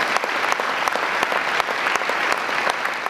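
A crowd at Rideau Hall breaks into sustained, dense applause with scattered cheers, the clapping steady and close throughout.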